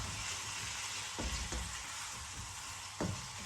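Squid and shrimp fry hard in a very hot wok, a dense, steady sizzle with a few sharp clicks and scrapes of stirring, loud and close with no voices.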